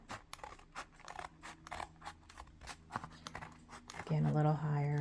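Scissors snip repeatedly through paper while a Western-themed junk journal is made, a close, quick run of crisp cuts ending under a steady spoken voice.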